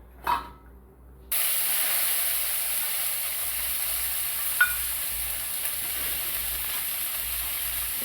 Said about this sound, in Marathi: आपण थोडंसं टाकून वटाणा थोडासा परतून घेऊ